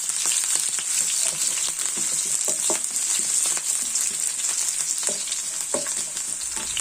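Green chillies sautéing in hot oil for a tomato roast, a steady close sizzle with scattered clicks and scrapes of stirring throughout, no voices.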